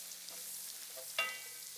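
Spinach sautés in a pan for a budget Kenyan meal served with ugali and eggs, giving a faint, steady sizzle with a single brief clatter partway through.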